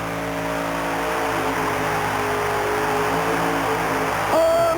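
A monster truck with a Chevy engine is held at full throttle at a USHRA mud race, a sustained loud roar and whine that swells near the end, with a crowd and commentary faint underneath.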